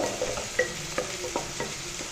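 Onions frying in a pan until lightly browned, a steady close sizzle broken by regular soft stirring scrapes.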